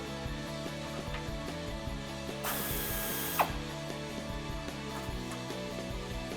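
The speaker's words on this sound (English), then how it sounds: "we're going to remove our muffler by loosening this clamp at the front using our 16mm socket" A 16mm socket ratchet clicks in quick, rapid bursts while loosening the front muffler clamp on a RAM 1500 pickup's exhaust, with a brief louder metallic scrape midway, close and clear without speech.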